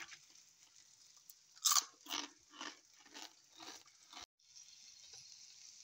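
Crunchy organic spinach leaves, fried crisp, bitten and chewed close up, giving a series of sharp crisp crunches in an uneven rhythm before a brief pause, with no talking.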